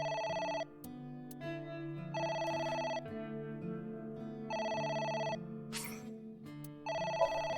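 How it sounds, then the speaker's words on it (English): Telephone ringing in the AI: The Somnium Files video game: clear electronic bell bursts in a repeating ring-pause pattern, four rings over low background music, with no talking. "The phone is ringing."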